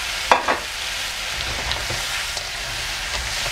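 Crabs tipped into hot oil with spices for a crab curry, giving a steady close sizzle and frying hiss with a few stirring scrapes near the start.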